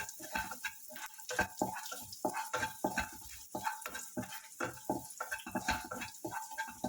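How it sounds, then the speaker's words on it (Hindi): Garlic fries in a pan as it is stirred, giving quick rhythmic bursts of scraping and sizzling that come and go throughout, close by and without speech. "गार्लिक हमें रॉ स्मेल जाने तक कुक करना है।"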